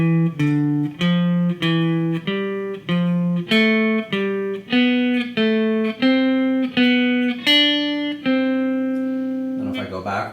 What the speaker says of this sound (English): So the scale exercise in thirds would sound like this.